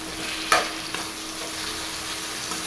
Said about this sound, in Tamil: இந்த தக்காளியை இப்போ இதில் ஆட் பண்ணிக்கலாம்.